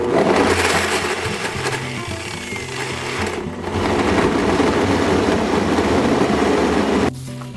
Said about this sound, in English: I'm gonna blend this one food before I put the vegetable in because it's kind of full right now.